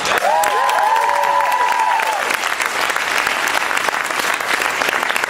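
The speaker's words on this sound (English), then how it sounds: "Give them a big round of applause." Loud, dense applause from a live audience honouring leaders at an evening leadership event, steady throughout, with a brief tonal chime sweeping over the first two seconds.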